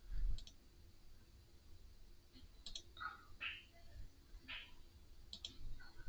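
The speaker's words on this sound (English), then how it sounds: "Okay, right here I'm clicking the buy button." Sharp computer mouse clicks on a trading platform's buy button, several quiet, isolated clicks spaced a second or two apart amid low room noise and faint murmuring.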